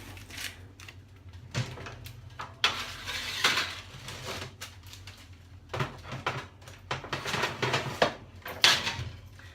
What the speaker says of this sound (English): So we're going to put our chickpeas and our vegetables inside the oven